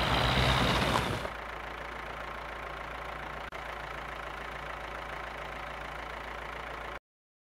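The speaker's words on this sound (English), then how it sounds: "Here are lots of tractors at work." Tractor engines running, a loud rough burst at first, then a steady low idling drone that holds evenly and cuts off abruptly.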